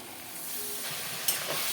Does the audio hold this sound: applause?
no